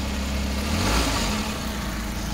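A Suzuki DA64V with a non-turbo K6A engine that has low power and delayed response runs in a steady, close, rough drone, swelling slightly for a moment as it is revved, then settling back to a loud idle.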